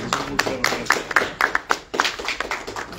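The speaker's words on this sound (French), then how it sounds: "j'ai envie de vous applaudir, car je n'ai qu'une seule main pour vous applaudir." A single person clapping at a Paris diaspora gathering, giving a series of sharp, uneven claps close by, alone without talk.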